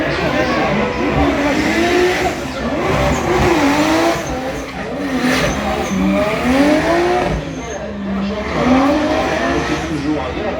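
Race cars lapping the Circuit du Val d'Argent during warm-up sessions, with engines droning and rising and falling as cars pass at a distance, steady and continuous under an announcer talking over a loudspeaker.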